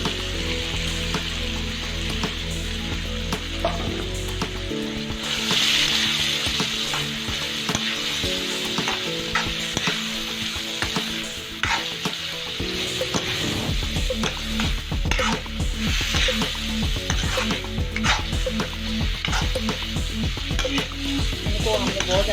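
Chopped capsicum, onion and carrot go into a hot pan for chicken macaroni, giving a steady sizzle with frequent metallic clinks and scrapes of a spatula stirring, close and continuous for about twenty seconds, with no talking.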